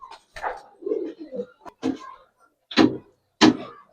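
Pigeons of old-generation gribaz and colored breeds, giving a few short coos and soft calls close by, with brief bursts and quiet gaps between.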